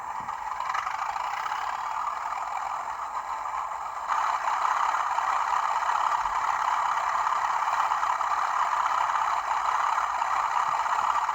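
A steady diesel engine drone with a mechanical hum from a Bachmann Class 37 model locomotive sound unit grows louder partway through as it revs up, then holds at the higher level.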